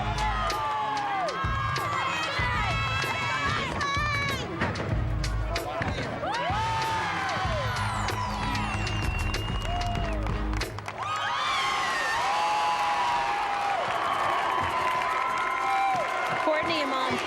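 Georgia fans at the 2005 NCAA women's gymnastics championships cheer and whoop in a large arena, a loud sustained crowd roar with shrill cries and a swell of applause, under a commentator's talk.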